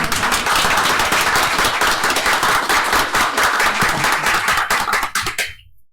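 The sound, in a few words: round of applause at a commission meeting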